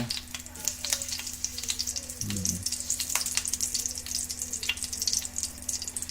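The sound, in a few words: butter sizzling in a frying pan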